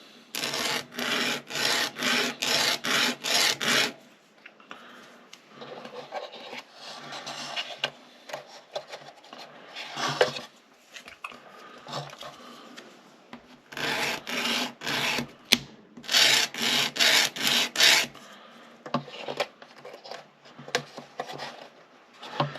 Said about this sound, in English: I'll fine tune it to get it in place with just a sanding stick